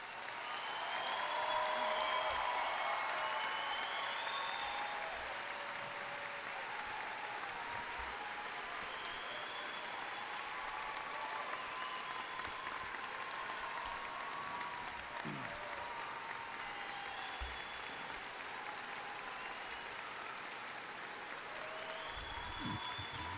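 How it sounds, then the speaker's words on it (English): A graduation audience at Larry A. Ryle High School applauding students enlisting in the military, a soft, distant, sustained patter of clapping across a large hall, with faint voices and cheers mixed in. "We applaud your patriotism."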